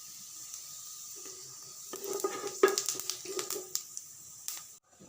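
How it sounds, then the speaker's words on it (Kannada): Cumin seeds, about a tablespoon, dropped into hot oil in a pan, setting off a soft crackling sizzle that builds midway with stirring scrapes and small clinks, fairly quiet and close. "ಎಣ್ಣೆ ಕಾದಿದೆ. ಇದಕ್ಕೆ 1 ಟೇಬಲ್ ಸ್ಪೂನ್ದಷ್ಟು ಜೀರಿಗೆ ಹಾಕ್ತಾ ಇದ್ದೀನಿ."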